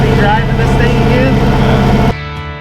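A boat engine running on Lake Powell, a steady loud motor drone with a tonal hum that cuts off abruptly near the end, with people talking over it.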